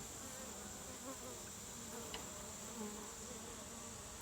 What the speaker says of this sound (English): Lots of bees on both sides